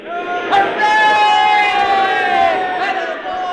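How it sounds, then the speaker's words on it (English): A large crowd at a field cheers and roars as a rocket returns home from the moon, with loud, sustained, sweeping voices swelling and falling over several seconds. "What's all the cheering about? They're cheering us."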